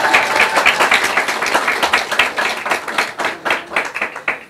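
Graduation ceremony audience for Form 4 and Form 6 students breaks into sustained clapping, a dense rippling patter of many hands that holds steady at fairly close range with no voices on top.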